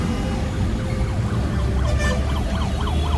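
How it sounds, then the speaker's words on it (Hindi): An ambulance siren wails in rising and falling sweeps over steady traffic rumble, loud and continuous throughout. "वहाँ से एम्बुलेंस आ रही है"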